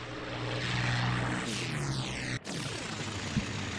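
Droning WWII propeller aircraft engines in IL-2 Sturmovik, Soviet planes such as Pe-2s and I-16s on a combat flight sim mission, a steady throbbing engine roar with a sharp swell and a quick whoosh sweeping past.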